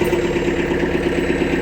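Kubota B3000 tractor engine runs at a steady idle close by, a loud even chugging throb with a rhythmic low pulse, alone without voices.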